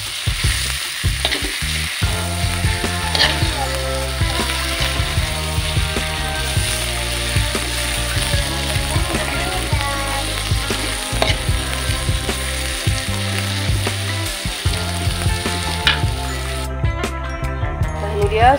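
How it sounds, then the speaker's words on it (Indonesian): Fried fish is stirred into sambal asam sunti in a pan, with a spatula scraping and clattering continuously over loud, steady sizzling and frying that stay constant throughout. "Kita aduk-aduk lagi sampai merata."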